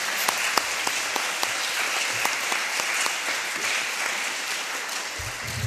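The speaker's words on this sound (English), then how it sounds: "So can I have one big round of applause for them," A crowd at a youth leaders summit claps steadily, sharp individual hand claps standing out over the dense applause throughout.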